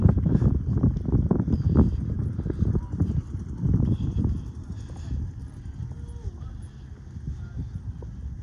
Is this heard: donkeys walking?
yes